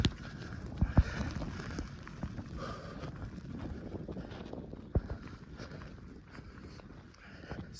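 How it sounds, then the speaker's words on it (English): Strong wind roars and buffets a microphone during a heavy lake-effect snowstorm in Hamburg, New York, a steady rushing noise with a couple of sharp thumps from gusts and no talking. "Winds are gusting pretty high right now."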